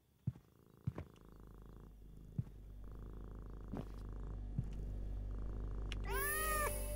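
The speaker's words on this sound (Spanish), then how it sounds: "Ahí tenemos gato." A cat in the video game Thief Simulator 2 purrs steadily, close and fairly soft, with a few sharp clicks over it and a brief higher whistling sound at the end.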